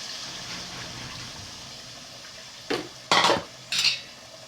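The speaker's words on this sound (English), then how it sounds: "Mix everything together. Combine it together, guys." Fish stew being stirred in a pot with Titus fish and seasoning cube: a quiet stretch, then three short metallic clattering scrapes of a spoon against the pot close by.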